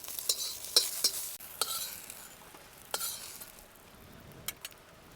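Quiet dry sizzle of chillies roasting in an iron wok, broken by sharp scrapes and clinks of a utensil stirring, with no voices.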